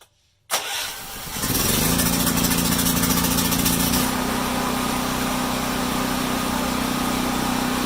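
A DuroMax XP5500EH portable generator, run on fuel with the choke set halfway, catches after a brief pull and settles into a steady, loud, close engine drone with a constant hum and no talking.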